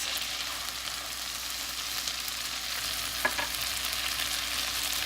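Butter and salt sizzling in a frying pan while honey garlic salmon is cooked, a steady close crackling hiss that holds throughout, with a couple of sharper pops near the end and no talking.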